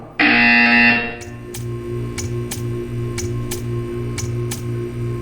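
A loud, sustained electronic buzzer drones for about a second in the Portal 2 video game, then a steady ticking clock counts on evenly over a low hum.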